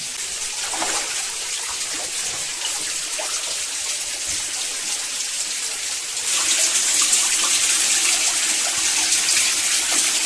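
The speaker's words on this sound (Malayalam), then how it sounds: "അപ്പം ഇതാണ് വെള്ളം ഒഴുകി വരുന്നത് ഒരു ചെറിയ വെള്ളച്ചാട്ടം തന്നെ പറയാം" Spring water spills as a small waterfall near a cave, a steady rushing splash that runs unbroken throughout and grows slightly louder and brighter partway through.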